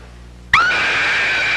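A woman lets out a sudden, loud, sustained scream that starts abruptly after a quiet moment and holds steady to the end.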